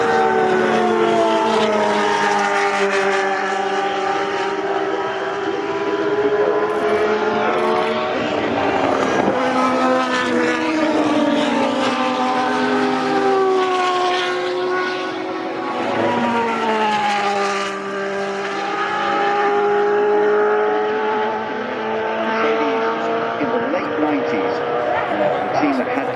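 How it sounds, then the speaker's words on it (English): High-revving Formula 1 cars from several eras, including V10-engined machines, run at Goodwood, their engines wailing continuously in rising and falling pitch sweeps as cars pass and accelerate, loud and sustained under a commentator's voice. "it's wonderful to see these cars out here at Goodwood and to listen to these high revving machines"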